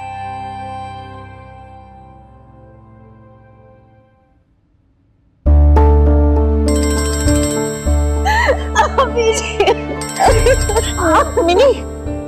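A mobile phone ringtone plays loudly as a repeating melodic tune, entering abruptly after a fading stretch of earlier sound, with background voices in a domestic scene.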